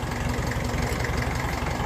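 A 1954 Ferguson 20 TEF diesel tractor engine idling at the lowest tick-over, a steady, even low chugging rumble heard close up and alone.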